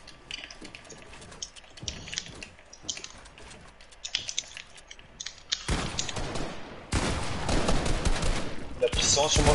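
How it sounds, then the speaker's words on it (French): Video game gunfire punching through walls: scattered sharp shots and clicks at first, then a loud, dense burst of rapid fire filling the last few seconds, with voices talking over it. "ils mettent des balles à travers les murs"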